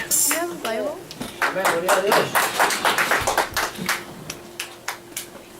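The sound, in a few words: applause for the Lord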